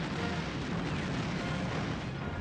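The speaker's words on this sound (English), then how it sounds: "Artillery is everywhere." Dense, continuous artillery fire from the video game Panzer General II, a loud booming wash of rumbling blasts with no gaps and no voices.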